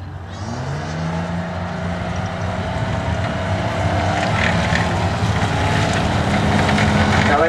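An M548 tracked cargo carrier, a lightweight military supply vehicle, drives past with a loud, steady engine drone and rumbling track noise that grows slightly louder over several seconds; no speech.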